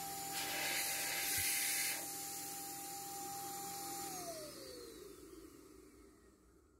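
An HVLP paint sprayer hisses steadily up close, a continuous airy spray with a faint whine, fading slightly toward the end.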